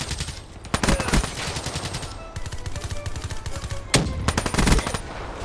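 Automatic weapon fire in Black Ops 3 on the Skyjacked map, rapid bursts of machine-gun shots rattling in several clusters over game noise, fairly loud and close.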